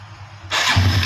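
A motorcycle engine cranks with the electric starter and catches, settling into a steady, close rumble.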